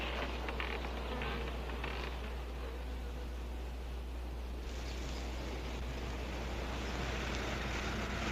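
Wasps buzz as a dense, continuous drone that stays loud and steady throughout, with no voices over it, in a 1959 horror film scene set in a field.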